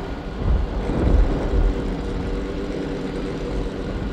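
A low, steady droning hum from a drone overhead fills the air, swelling slightly and then holding even, like an aircraft passing at a distance.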